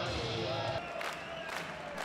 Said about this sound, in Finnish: Kuparisaaren yleisö antaa hirvittävät aplodit